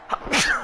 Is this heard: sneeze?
yes